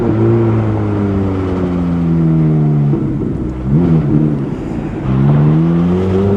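A 2005 Ferrari F430 Spider's engine drones steadily while driving, its harmonic tone dipping and rising through gear changes, loud and close throughout with no talking.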